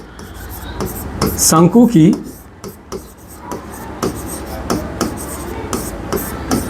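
Chalk or marker scratching across a board during a maths lesson on the surface area and volume of a cone: irregular rubbing strokes and taps, close and fairly loud, with a voice speaking briefly.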